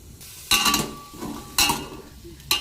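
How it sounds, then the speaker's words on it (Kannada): Boiled vegetables and legumes go into a pan of roasting mustard-seed tempering for a village-style kadale kalu sambar. Three bursts of loud sizzling and clattering follow, each fading back into a quieter frying hiss. "ಬೇಯಿಸ್ಕೊಂಡಿರೋ ತರಕಾರಿ ಮತ್ತು ಕಾಳನ್ನ ಹಾಕ್ತಾಯಿದ್ದೀನಿ"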